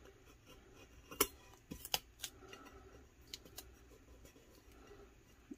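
Scissors trimming a small piece of patterned vinyl on a glitter tumbler: a few sharp, close snips spaced over a quiet background, with no talking.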